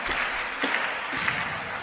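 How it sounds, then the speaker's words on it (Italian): Home crowd at a women's Serie A2 volleyball match, Cremona against Busto, applauding late in a set; a continuous wash of clapping from many hands, moderately loud and steady throughout. "senti l'applauso del tuo pubblico"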